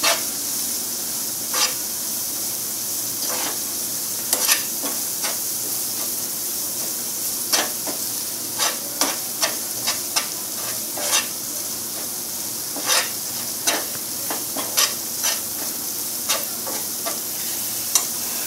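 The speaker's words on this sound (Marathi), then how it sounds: "जिरा पावडर आणि एक मोठा चमचा लाल तिखट मसाले परतून घेऊया आपण" Cumin powder and red chili spices sautéing in oil for a pumpkin vegetable dish, a continuous soft hiss punctuated by frequent sharp stirring scrapes and taps of a spoon against the pan.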